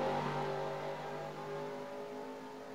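Race car engines rev and accelerate together at the green flag in a racing video game, a loud sustained roar of several cars close by that fades slightly as they pull away.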